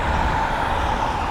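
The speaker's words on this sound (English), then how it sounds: "I do apologise for the traffic noise on this part of our tour today" Steady road traffic rumble near Weymouth's old harbour by the Town Bridge, a continuous broadband wash of passing cars and trucks with a low engine drone, close and fairly loud, with no talking.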